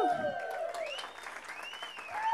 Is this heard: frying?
no